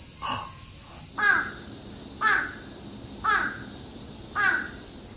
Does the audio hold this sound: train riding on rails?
no